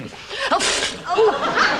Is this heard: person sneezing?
yes